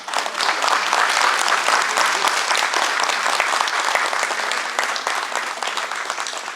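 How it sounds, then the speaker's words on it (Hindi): An audience at a Bhopal theatre performance breaks into sustained, dense applause that stays loud throughout and eases off slightly near the end. "और अब मैं अपनी टीम से कहूंगा कि एक तालियां दर्शकों के लिए हो जाए।"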